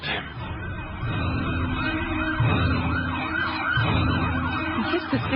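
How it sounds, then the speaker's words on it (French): An emergency siren wails in repeated rising and falling cycles, fairly loud and continuous, with no talking over it. "Qu'est-ce que c'est que cette sirène?"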